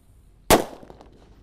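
A red disco happy flower firework goes off with one loud, sharp bang followed by a short fading crackle, close by and otherwise quiet.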